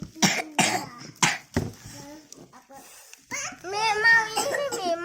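A child coughs several times in short, sharp bursts close to the microphone, followed by a voice speaking and whimpering.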